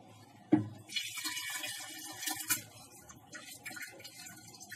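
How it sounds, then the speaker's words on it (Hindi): Lentils and water tipped into a large earthen handi during cooking of a five-lentil dal, giving a soft splash followed by trickling, sloshing liquid at close range, with no speech. "डालती हूँ मैं ये दाल हांडी में।"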